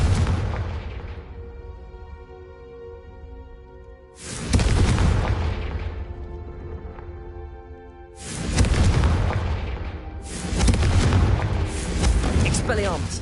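Confringo fire spells cast in a Harry Potter video game on PS5 land as three heavy booming blasts, each rolling on with a long crackling tail, separated by quieter stretches carrying music and voices.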